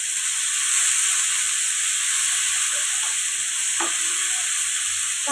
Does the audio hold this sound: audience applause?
no